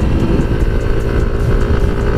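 An FKM Fyro 175cc scooter being ridden at speed, a steady, loud engine drone with road and wind rumble running continuously throughout.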